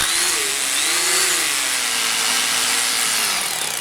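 A hammer drill fitted with a Bosch GDS 162 dust-extraction attachment chisels out small patches during electrical rewiring work, a loud, continuous high-pitched buzzing whine that runs unbroken from start to end.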